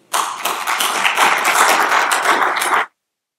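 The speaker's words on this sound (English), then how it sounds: "So let's get a big round of applause for Kirill and Denis." A conference audience applauds, with dense clapping that holds loud and steady for nearly three seconds and then stops abruptly.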